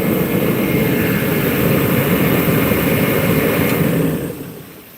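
A bullet heater roars like a jet engine during snow clearing at a greenhouse, loud and steady, then dies away as it flames out at the end.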